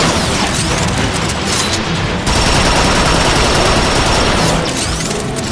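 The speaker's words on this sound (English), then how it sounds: "They're shelling the plaza! It's coming from that warp cannon." A warp cannon shelling a plaza in the Transformers: Fall of Cybertron video game: a dense, continuous barrage of heavy blasts and crashing explosions, loud and unbroken, with no voices.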